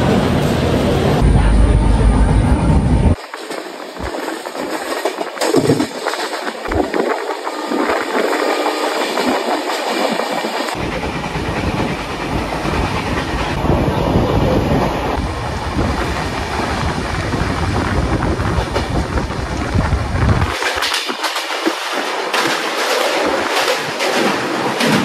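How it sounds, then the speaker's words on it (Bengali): The 18409 Jagannath Express, a new LHB coach train, rolls on the rails after leaving Santragachi station, a loud, continuous rumble with rhythmic clatter and shifting wheel and wind noise. "এখন আমাদের ট্রেন ছেড়ে দিল সাঁতরাগাছি স্টেশন থেকে"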